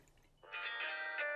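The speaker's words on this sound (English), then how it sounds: "we're gonna pour this into a chilled Nora" A stirred martini being poured from the mixing glass into a chilled glass, a steady bright liquid stream starting abruptly and running close and clear for about a second before cutting off.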